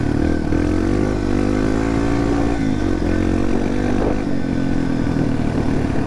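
A Yamaha TTR-230 dirt bike engine runs loud and close, its revs rising and dipping in a steady drone through the whole stretch.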